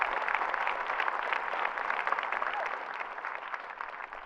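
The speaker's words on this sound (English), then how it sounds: "So please give yourselves a round of applause" Graduates at the 2019 Queens College commencement clap for themselves, a steady, moderately loud wash of crowd applause in a large space that holds without pause from start to finish.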